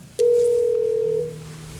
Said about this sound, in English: And now my phone's ringing.